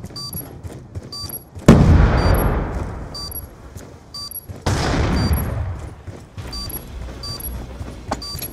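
Gunfire and grenade blasts in Black Ops 2 ring out as two heavy booms with rolling decay, surrounded by rapid repeated shots and metallic game effects throughout, loud and close.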